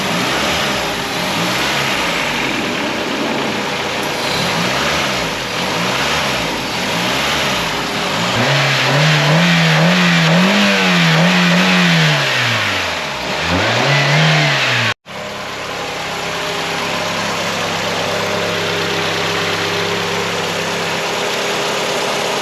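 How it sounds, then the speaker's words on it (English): A cammed Ford 4EFTE engine, fitted with a billet rocker cover, fires up and settles into a loud, choppy, lumpy idle with several rising revs. The engine sounds close and steady throughout, with no talking. "you can hear straight off the key, she's now cammed. She's got a lumpy idle, ready for drag racing."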